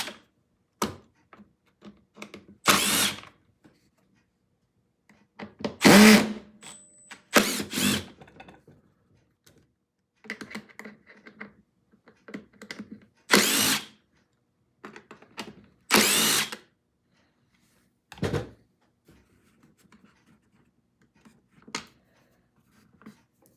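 A power drill whirs in several short bursts to remove screws from a broken shop vac's motor assembly, with clicks and handling clatter between the runs and quiet gaps.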